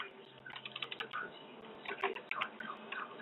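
Quick clicking keystrokes on a computer keyboard, a short burst of near, fairly soft taps in an uneven rhythm.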